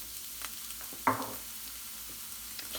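Garlic drops into a hot pan for a tomato and tortilla dish, giving one sudden hiss near the middle over a quiet, steady background sizzle, with no talking.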